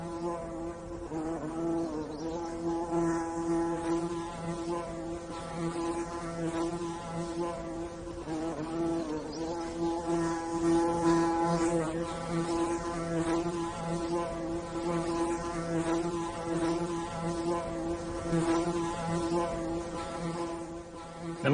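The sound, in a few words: honeybees buzzing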